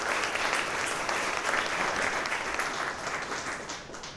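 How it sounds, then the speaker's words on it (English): Dense applause from an audience at an AI industry event fills the room as a steady wash of many clapping hands, loud and continuous, fading a little toward the end, with no talking. "So give a round of applause for that"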